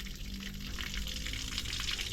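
Water runs steadily from a hole in a damaged water tank, a continuous faint hiss and trickle with no break.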